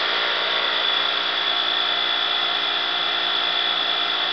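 A Bedini-style generator wheel spins fast at about 3,500 RPM, making a steady, fairly loud whine and whir with a constant high tone and no change in speed.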